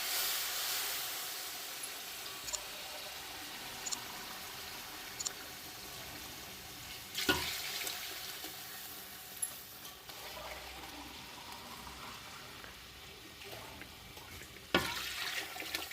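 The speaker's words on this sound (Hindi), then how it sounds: "अब मैं इसमें पानी शामिल कर रही हूँ।" A steady, soft rush of water pouring into a cooking pot of chicken pulao with rice and spices, with a few faint clinks and knocks along the way.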